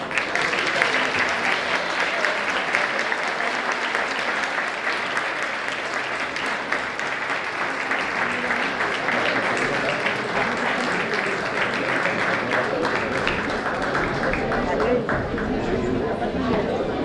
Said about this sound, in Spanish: Para les pido un gran aplauso.